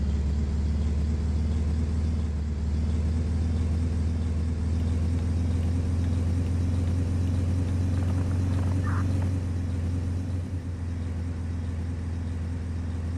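A police tow truck in the game Flashing Lights drives a towed car toward the impound lot, its engine a steady, loud low rumble that holds throughout with no talk.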